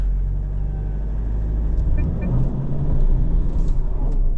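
A Mitsubishi Triton GLX-R pickup crawls uphill off-road in low gear, its engine giving a steady, deep labouring rumble that swells slightly as it pushes on, with no voices.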